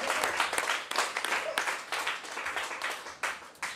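A church congregation applauds in a worship service, with dense, steady clapping across the whole stretch and occasional louder bursts. Much of it blends into one continuous rush of hands.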